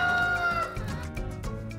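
Chickens cluck and call in a coop at a Gyeongju, Korea egg farm, a dense, close chorus of overlapping hen voices that continues throughout.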